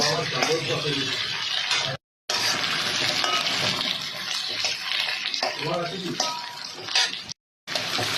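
Onions and then marinated chicken sizzle and crackle as they fry in a pan, with stirring noises and a voice speaking over it, broken by two short gaps.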